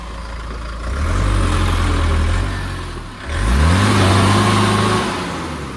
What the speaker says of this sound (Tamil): ஈரம் வந்து அப்படியே இருக்கிறதுனால நல்லா வீல் வந்து சுற்றுதுங்க